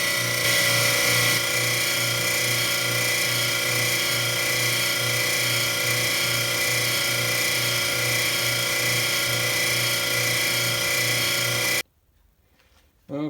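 A lathe takes a light skim pass machining a worn main shaft from a Gleaner combine, a steady loud whining and grinding drone with a regular low pulsing that runs for about twelve seconds, then stops abruptly into near quiet.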